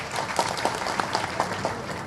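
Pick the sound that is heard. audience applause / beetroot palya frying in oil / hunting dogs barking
audience applause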